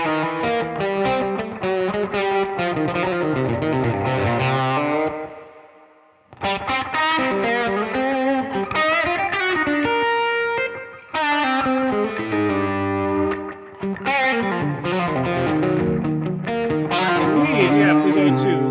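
Electric guitar played through a Line 6 Helix Stadium XL, distorted and shaped by a Cali Q EQ model ahead of the amp, with effects engaged; sustained chords and melodic lines ring loudly with a short break partway through.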